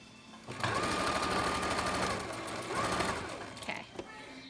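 A sewing machine stitches a fabric face mask, running steadily in two bursts with a short pause between them as the work is turned at a corner, loud and close.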